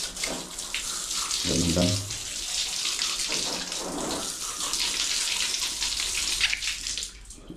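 Tap water runs steadily over a fishing reel being washed, a continuous splashing hiss with a voice talking over it.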